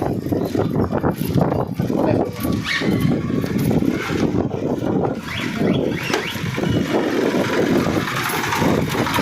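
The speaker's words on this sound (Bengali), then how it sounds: "তো ভটভটি যাচ্ছে দেখতে পাচ্ছ" A bhotbhoti, a rural motorised van, passes nearby with a loud, continuous rattling engine drone that fills the whole stretch amid rough outdoor background noise.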